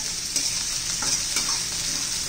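Red and yellow bell peppers with spring onion greens sautéing in a pan for soybean chilli, a bright, steady close sizzle with a few spatula stirs and no voices.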